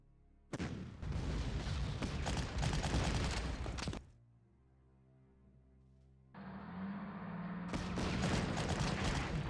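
Bursts of anti-tank gunfire and booming explosions in the wartime strategy game Panzer Corps, loud dense volleys that cut out into a quieter lull before another heavy barrage starts up.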